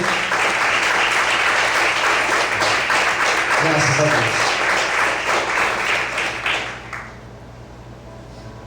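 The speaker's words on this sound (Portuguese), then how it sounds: "Você pode aplaudir o Senhor com bastante alegria." A church congregation applauds in a dense, steady roar of clapping for several seconds before it tapers off quickly, with a voice speaking briefly over it.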